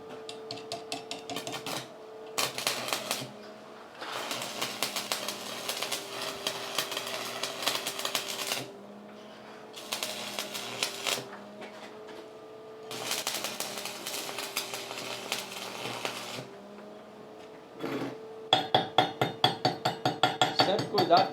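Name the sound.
arc welding with a thick electrode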